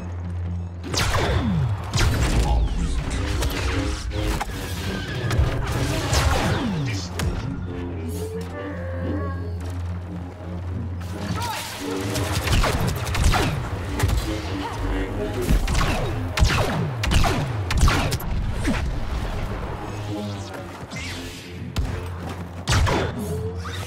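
Blaster fire in a Star Wars Battlefront match, a busy run of sharp shots, whooshes and thuds layered over a dense game soundtrack, loud and continuous throughout.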